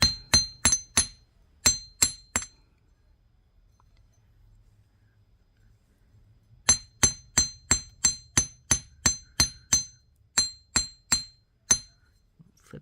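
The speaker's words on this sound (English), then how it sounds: "This is my chasing hammer, and we're going to hammer these." Chasing hammer striking earring pieces on a steel block: a first run of quick metallic taps, a quiet pause, then a longer run of evenly spaced, bright ringing blows, close and loud.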